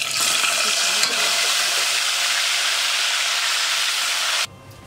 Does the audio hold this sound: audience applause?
no